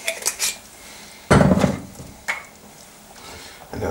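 A utensil stirs pork in soy sauce with a splash of sherry in a pan, making a loud clattering scrape that bursts in the middle of the clip, then lighter knocks and scrapes against the metal.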